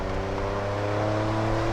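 A 1990 Nissan 300ZX engine hums steadily under load on a downshift, a smooth sustained drone of engine and road noise with a slight pitch swell near the end, heard from inside the car.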